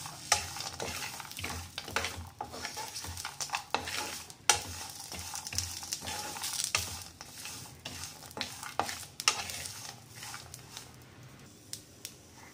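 Spices and curry leaves dry-roasting in a pan, with repeated close scraping stir strokes over a soft sizzle, no voices.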